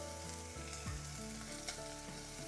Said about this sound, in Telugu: ఉల్లిపాయలు అలాగే ఇందులో కాస్త ఇంగువ కూడా వేస్తున్నాను కరివేపాకు